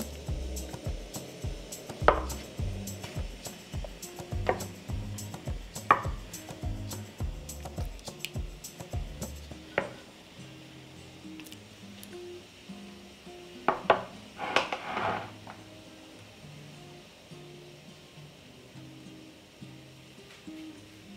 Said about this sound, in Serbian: izvadit ću tegle iz šerpe.